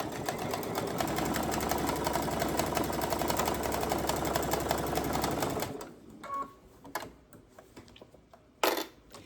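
A Baby Lock sewing machine stitches quilt binding at close range, a steady rapid mechanical whir for about six seconds before stopping, followed by a few faint clicks and handling noises.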